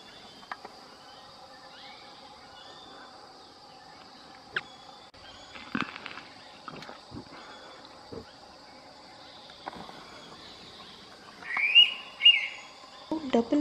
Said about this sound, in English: Double whistle call, which the bird often makes.